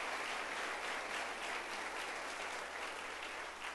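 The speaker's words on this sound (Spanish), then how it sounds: "Dale otro aplauso al rey, hombre." A crowd at a Spanish-language sermon gives sustained applause, even and continuous clapping heard at a distance and fairly faint, with no break across the short stretch.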